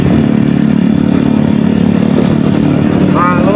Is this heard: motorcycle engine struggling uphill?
yes